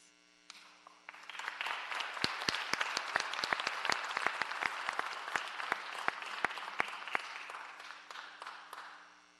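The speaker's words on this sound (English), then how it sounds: "another round of applause" Applause at a public works board meeting, a small roomful of people clapping after a quiet start, with sharp individual claps popping above the crowd and a steady electrical hum underneath, fading toward the end.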